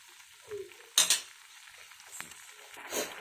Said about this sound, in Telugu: మ్యాగీ బాయిల్ అవుతుంది కదండి, ఇప్పుడు మ్యాగీ మసాలా వేసేసుకుందాం.